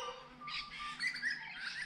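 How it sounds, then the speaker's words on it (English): Faint bird chirps and squawks drift in from outdoors, distant and intermittent, in a quiet home kitchen setting without talking. "can you hear the noise of the fly and the birds and the dog?"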